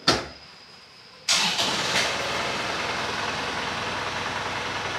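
An Isuzu Panther Grand Touring (2009) car engine starts after a brief click, cranking and catching, then settling into a steady close idle.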